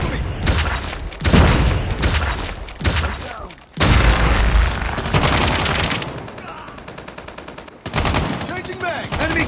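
Frag grenades explode in the COD Mobile game, heavy booming blasts mixed with rapid gunfire, loud and dense bursts separated by brief gaps, with a game voice calling out over the fighting.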